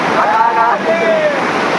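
Steady roar of a jungle waterfall, a continuous broadband rush of falling water with some wind on the microphone and faint voices and whistling tones over it.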